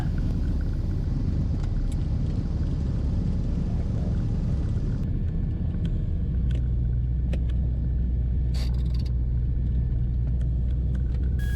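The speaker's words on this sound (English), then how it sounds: "Twin Cessna 5178 Juliet has left the active 36, and we're taxiing back to the T-hangars" A twin-engine Cessna 340 cabin-class airplane taxis back to the hangars after landing, a steady low engine rumble and drone running throughout, with a lower, heavier hum settling in partway through.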